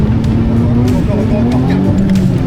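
A car engine runs steadily nearby, its tone rising slightly as the throttle is pressed, with a voice talking over it throughout.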